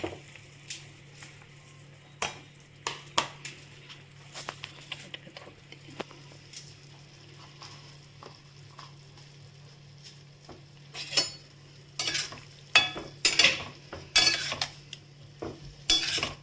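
Taro (chola kochu) tipped into a spiced pan and stirred while frying, a low steady sizzle broken by sharp spoon clacks and scrapes against the pan that grow busier toward the end.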